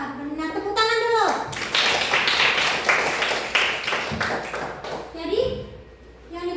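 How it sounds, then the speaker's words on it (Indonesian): A classroom of children clapping together in a burst of rapid, loud claps lasting a few seconds, with voices talking before and after. "Tepuk tangan dulu."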